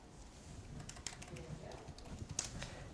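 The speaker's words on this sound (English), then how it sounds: "If I type in the word delay" A computer keyboard gives quick, fairly quiet taps in short bursts during a weather update, over low room noise with a faint voice in the background.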